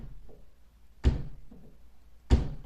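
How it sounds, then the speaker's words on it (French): A closed bedroom door shaken by a draft gives two sharp knocking thuds about a second apart, each one preceded by a faint rattle, in an otherwise quiet room. "Tout d'un coup, j'entends la porte qui fait ça."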